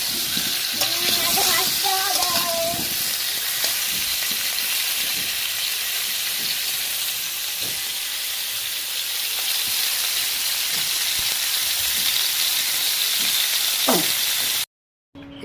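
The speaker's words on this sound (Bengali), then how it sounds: "আলুটা ভেজে নেবেন ভালো করে।" Potatoes frying in hot oil for mutton kasha give a loud, continuous close sizzle with stirring scrapes and clatter throughout, cutting out briefly near the end.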